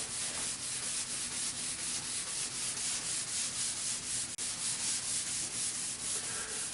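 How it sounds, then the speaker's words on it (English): A rag rubs wood stain into a kitchen cabinet during a remodel, producing close, steady rhythmic swishing strokes back and forth with the grain, with no talking. "Right now I'm rubbing against the green to get it out of the rag, and I'll rub back with the green."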